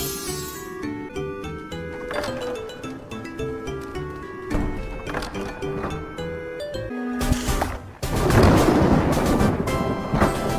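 A thunderstorm in the Castle of Illusion Mickey Mouse video game: a loud thunder crash and rain roar break in over game music near the end.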